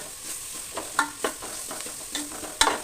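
Onions sautéing in a pan make a faint, quiet sizzle, broken by several soft scraping taps of a spoon stirring at irregular intervals.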